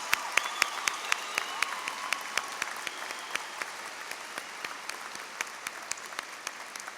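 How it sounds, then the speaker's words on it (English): Scattered applause for graduating students at a high school commencement, heard as distinct, fairly sparse claps in an irregular rhythm, quiet and spread out as if from a large hall. "Please give these students a round of applause for their accomplishments."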